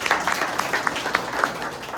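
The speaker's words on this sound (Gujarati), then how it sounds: "એમના બાદ તાળીઓ વગાડો ભાઈ" An audience of farmers at a natural farming meeting clapping for a few seconds, brisk scattered claps at a moderate distance in a room, with no talking.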